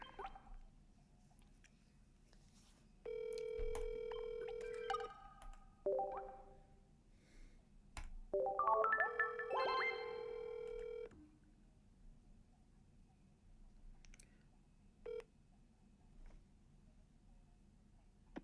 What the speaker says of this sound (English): My boy Mason's calling me, but let me get him up